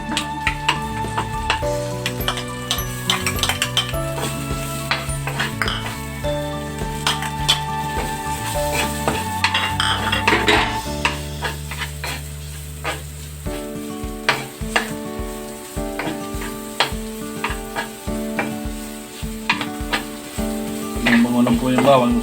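Garlic sizzles in hot cooking oil in a pan while dinuguan is made at home, a steady crackling hiss that runs under background music with occasional clinks of a utensil.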